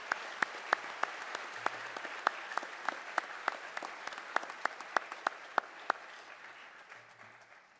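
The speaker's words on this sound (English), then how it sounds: "Please join me in giving one more round of applause for our military representatives." A school district Veterans Day audience applauds military representatives, a steady wash of many hands in a large room with sharp individual claps standing out, gradually fading at the end.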